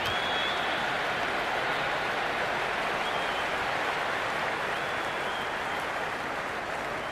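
A packed cricket stadium crowd at an IPL match between RCB and Gujarat gives off a dense, steady roar of cheering and applause, loud and continuous with no pauses throughout.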